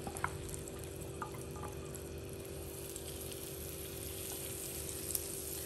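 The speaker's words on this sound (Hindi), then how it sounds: "पैन में मक्खन डालेंगे" Butter sizzling in a pan for paneer butter masala, a faint steady crackle and hiss with a few soft pops and drips, close but quiet, without talk.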